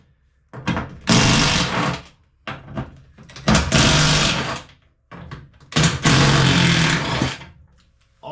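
Three bursts of a power tool, each roughly a second or more, whirring and rattling at close range as it works seized spindle bolts loose on a Toro TimeCutter Z4200 zero-turn mower deck, with short quiet gaps in between.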